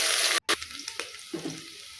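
Onions frying in hot oil until golden brown, a soft sizzle under a few scraping stirs and a sharp clatter near the start, close and fairly loud at first before settling.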